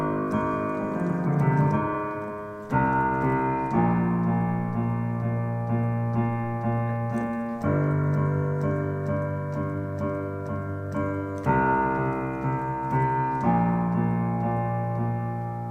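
A piano plays the left-hand part of the worship song Worthy, with low sustained chords struck every couple of seconds and left to ring and decay. The playing is close and clear, with no talking.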